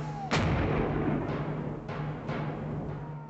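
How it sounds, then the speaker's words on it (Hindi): A Bofors artillery gun fires one sharp, booming blast, then a long reverberating rumble with a few fainter echoing thumps trailing behind it under a steady background hum. "बोफोर्स तोप की मार अचूक है और धमाका भी उतना जोरदार"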